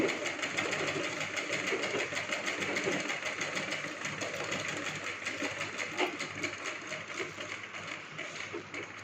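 A sewing machine stitching fabric for a child's lehenga runs steadily and close up, its continuous mechanical whir and needle chatter filling the whole stretch without pause.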